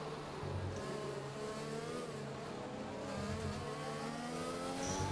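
Formula 1 race cars in a racing video game at Mexico whine continuously at high revs, engine tones rising and shifting as cars jostle for an overtake, steady and dense with no talk.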